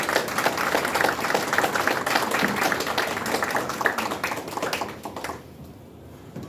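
Audience applause at a Korean political campaign event announcing a district head by-election run in Daejeon, steady dense clapping from a crowd that fades out near the end.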